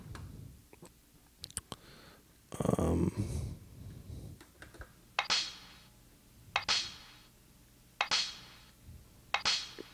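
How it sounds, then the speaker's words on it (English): A percussion loop sampled on an Ensoniq ASR-10 plays in a steady pattern: hollow block knocks alternate with crisp hi-hat hits at moderate volume, and nobody speaks. "It's like a block and a hat"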